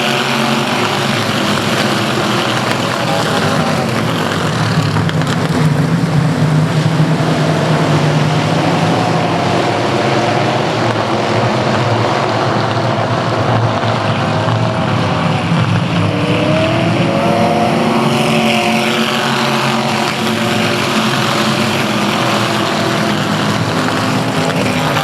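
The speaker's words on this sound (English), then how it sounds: "This is your Emod feature race for this evening. It's time to go racing." E-mod race cars racing at South Texas Speedway, a loud continuous roar of several engines droning together, with pitch rising and falling as they pass.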